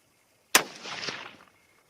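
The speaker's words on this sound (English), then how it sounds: "First 3 shots" A single sharp rifle shot from a 6mm ARC hunting round cracks loud and close, followed by a short rolling outdoor echo that fades within about a second.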